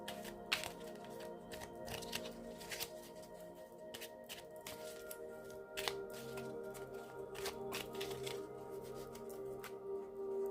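A small oracle card deck being shuffled by hand, with soft, quick riffling and slapping of cards in a steady run, close but quiet over a faint background hum, no talking.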